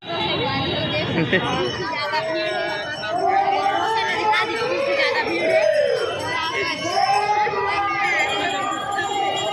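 Dense crowd hubbub fills a Chandrayaan-3 themed Ganesh pandal at Kalibari Chowk, Raipur: many overlapping voices in a steady, close, loud babble with no single voice standing out.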